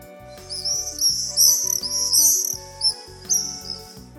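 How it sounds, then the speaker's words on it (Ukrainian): High, rapid twittering swallow song in quick chattering bursts over a faint background track, continuous and fairly close. "правильно, це ластівка."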